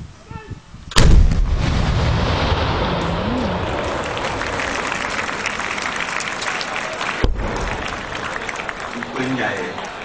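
A single heavy blast from a Type 59 130 mm howitzer of the Royal Thai Army booms near and loud at a firing demonstration, followed by a long rumbling echo and a second sharper report later, with faint voices at the end.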